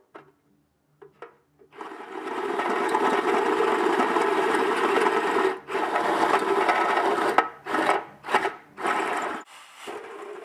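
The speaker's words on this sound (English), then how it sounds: "So we start with a hole saw to make a hole." A cheap hole saw whirs and grinds as it cuts a hole during rewiring work on an old Jeep, a continuous rasping drone broken by several brief stops and restarts toward the end.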